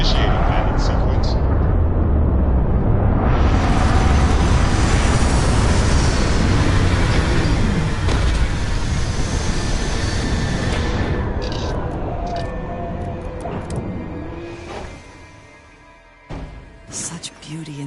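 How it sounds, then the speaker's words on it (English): A spaceship landing sequence in the video game Starfield, a loud sustained roaring rumble like engines or thrusters that holds steady then fades away, followed by lighter mechanical clunks and tones. "Initiating landing sequence."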